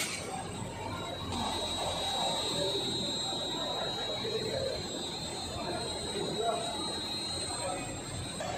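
A metro train running, with a continuous rumble of the carriage and a thin, high whine from the wheels or motors, heard from inside alongside faint background chatter.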